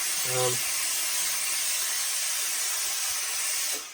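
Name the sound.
steamer steaming a Borsalino fur felt hat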